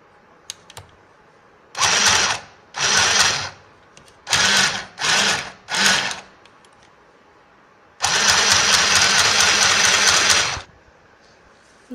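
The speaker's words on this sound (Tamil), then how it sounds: "இதுவரையிலும் தையல் போடணும்." Sewing machine stitching a seam on a chudi bottom: several short bursts of close, loud mechanical whirring separated by brief silences, ending with one longer steady run of about three seconds.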